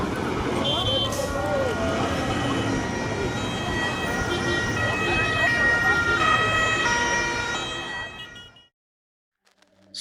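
Ambulance siren as a sound effect in a Bengali drama, loud wailing tones sweeping up and down over road traffic, close and continuous before cutting off abruptly near the end.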